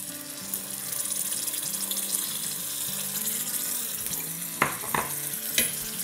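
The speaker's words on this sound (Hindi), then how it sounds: "तो बस टमाटरों के साथ हमें जब तक भूनना है जब तक के इसके ऊपर हल्की हल्की तरी ना आ जाए।" Chopped tomatoes fry in a pan for a fish masala curry, a continuous wet sizzle with stirring scrapes, then a few sharp spoon knocks against the pan near the end.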